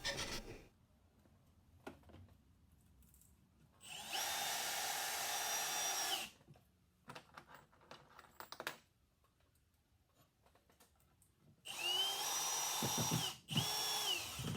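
A power drill drives screws through 1/8-inch plywood underlayment into two cross ties, two sustained whirring bursts of about two seconds each separated by quiet handling clicks and rubbing, close and loud with no speech.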